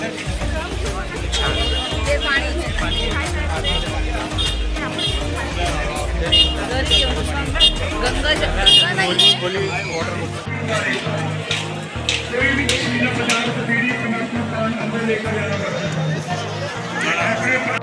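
Crowd babble fills the inside of the Golden Temple in Amritsar, many overlapping voices, close and steady throughout, with louder nearby talk and footsteps mixed in and low rumbling for the first half.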